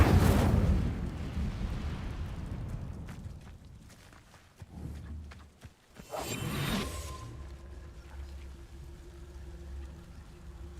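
Incendio fire spell cast in Hogwarts Legacy: a loud fiery burst and whoosh at the start that fades out, followed later by a second, shorter rushing flare and a low lingering hum.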